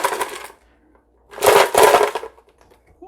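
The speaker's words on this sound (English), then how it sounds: "this is the amount of ice that I put in the blender" Ice cubes dropped into a Ninja blender jar for a frozen strawberry drink, two loud clattering bursts of cubes tumbling and cracking against the jar, near and separated by a brief quiet gap.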